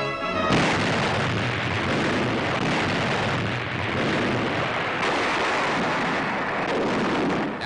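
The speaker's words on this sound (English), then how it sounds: "the Iowa's commander, Captain McCrae, orders her 9 16-inch guns to fire a mighty salvo" Battleship USS Iowa's nine 16-inch guns fire a salvo, a heavy booming blast that opens after a brief quiet and rolls on as a long, dense, thundering roar.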